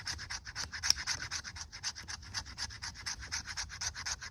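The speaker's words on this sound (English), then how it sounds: "So it's scraping the fat wood good." Coated knife spine scraping fatwood, a quick rhythmic series of close, dry rasping strokes, fairly quiet and steady, with no talking.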